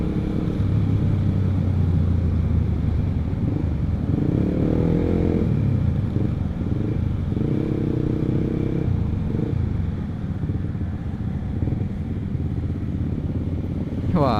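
A Honda CBR150R motorcycle with its standard exhaust rides along, giving a steady, loud engine rumble and drone that runs continuously for the whole stretch.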